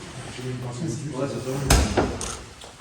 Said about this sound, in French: on va refermer la porte